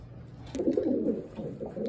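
A Taiwan-bred pigeon gives a low, soft cooing call close by after a brief quiet moment, steady and throaty.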